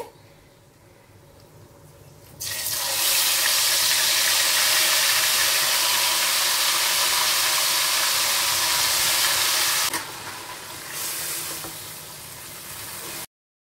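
Marinated chicken goes into very hot oil in a pan for Kolkata-style chicken rezala and sets off a sudden loud, sustained sizzle that carries on steadily for several seconds, then drops to a softer frying hiss.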